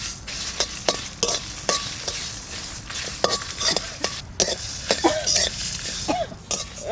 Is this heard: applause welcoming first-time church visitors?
no